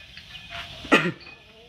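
A single short cough close by, over quiet background murmur.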